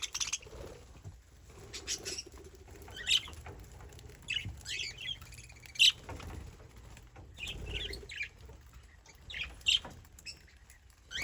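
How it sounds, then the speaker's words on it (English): Parrots in an aviary chirp and squawk in sharp bursts scattered over a steady background of rustling and scratching, with no one speaking. "Now we're in the small parrot aviary."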